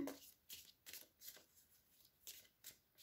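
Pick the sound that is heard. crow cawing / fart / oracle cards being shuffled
oracle cards being shuffled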